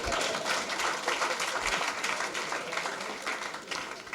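A church congregation applauds at a French-language worship service, dense sustained clapping that fills the room at steady volume, with no talk over it.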